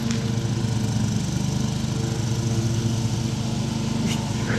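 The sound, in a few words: lawn mower running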